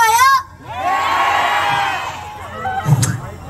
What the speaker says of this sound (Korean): 제가 한번 목소리랑 함성이 얼마나 크신지 좀 테스트를 해보겠습니다.